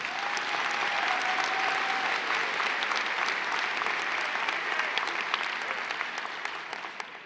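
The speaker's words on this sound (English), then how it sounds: "Let's have a round of applause for all of these graduates." Audience at a university fall commencement ceremony applauding graduates, a sustained dense roar of clapping that tapers slightly toward the end, with no talking.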